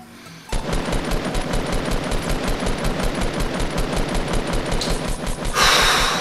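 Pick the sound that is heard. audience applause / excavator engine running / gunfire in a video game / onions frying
gunfire in a video game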